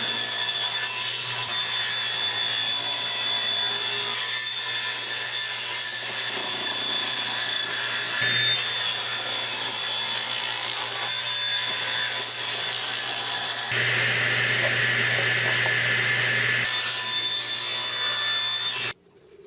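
A power saw cuts through scrap pallet wood slats in one long, continuous, loud drone with a brief shift in pitch midway and an abrupt stop at the end, close up with no talking.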